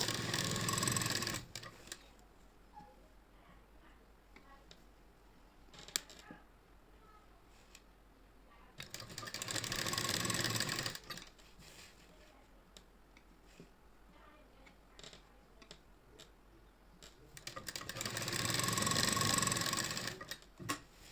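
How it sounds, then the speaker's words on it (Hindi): A sewing machine stitches a kurti sleeve made from an old saree, heard in three loud, fast-rattling bursts separated by quieter gaps with soft handling clicks. "अब यहीं से ही हमको जो है घुमा के इसमें फिर से सिलाई लगानी है।"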